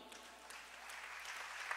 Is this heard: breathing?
no